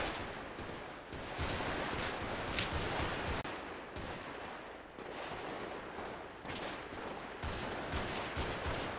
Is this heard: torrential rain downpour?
no